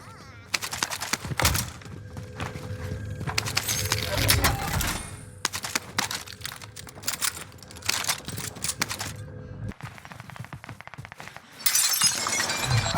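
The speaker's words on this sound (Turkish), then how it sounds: "Solumda cam kırıldı beyler." Glass shattering in the Warzone video game, amid rapid gunfire bursts, crashes and clattering effects throughout, with players talking over the action.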